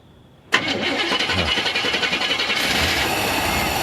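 A 45-year-old Chevrolet C10 truck engine cranks and catches abruptly, then settles into a loud, close, pulsing idle that grows slightly rougher and fuller toward the end.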